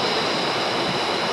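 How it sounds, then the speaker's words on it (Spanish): Mountain river near the Everest Base Camp trail in Nepal, a dense, steady rushing roar of water that fills the whole moment without pause, close and loud. "vamos a pasar el río"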